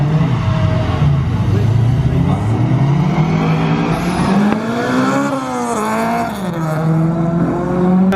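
A turbocharged Honda K20 engine in a Mazda RX7 howls around a wet racetrack, loud and close, rising and falling through gear changes with revving surges.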